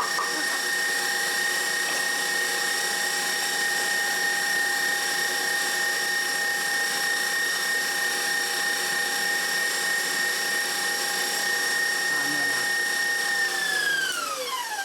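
An electric mixer beats Tom and Jerry batter in a bowl with a steady, close, loud whine that holds for several seconds and then drops in pitch as the motor is turned down at the end.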